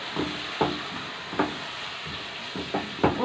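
Liver and gizzards fry in a pan, and a utensil scrapes across it in repeated strokes roughly every half second over a soft, steady sizzle, with no voices.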